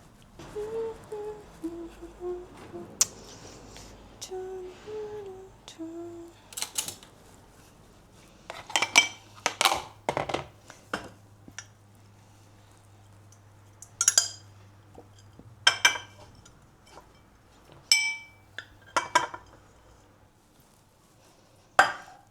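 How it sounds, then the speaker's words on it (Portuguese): Kitchen dishes and a bowl are handled while leftover rice is put away, with scattered clinks, knocks and scraping of ceramic and utensils after a short stretch of melodic background, close and intermittent. "Eu vou pegar um bowl para colocar esse restinho de arroz."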